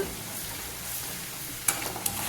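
Onion with ginger garlic paste sautés on low heat in a pan for a prawn pickle, giving a soft, steady sizzle with a couple of sharp clicks near the end.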